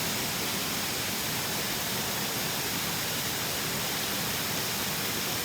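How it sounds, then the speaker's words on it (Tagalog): A waterfall in Tenom, Sabah, Malaysia pours in a dense, unbroken roar that fills the whole clip, loud and constant with no other sounds standing out. "Ayan o, falls, falls, falls."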